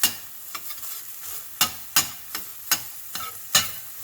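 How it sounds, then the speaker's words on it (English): Ground beef sizzles in a pan for dan dan noodles while a utensil scrapes and stirs it in sharp, regular strokes over a steady frying hiss, close and moderately loud. "this ground beef is almost all the way cooked"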